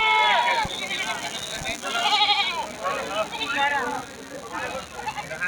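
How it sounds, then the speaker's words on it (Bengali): Goats and young kids bleat repeatedly at a busy village goat market, several overlapping wavering calls close by, loud and continuous against crowd noise. "বাচ্চা ছাগলগুলো দেখুন দর্শক এখান থেকে সুন্দর দেখা যাচ্ছে"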